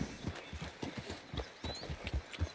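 Hooves of a small Arabian horse clip-clop in Red Dead Redemption 2, a steady close rhythmic trot of sharp low thuds over light background ambience, with no voices.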